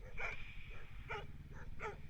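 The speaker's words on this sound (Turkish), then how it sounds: "Köpek de havlıyor başında." A dog barks four times in quick, uneven succession over a low background hum.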